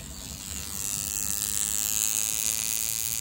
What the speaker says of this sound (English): It's a buzz, like a bee in there now